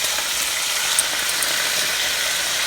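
Steak frying in caramelized sugar in a pan, a steady close hiss and sizzle with a few faint crackles and no talking.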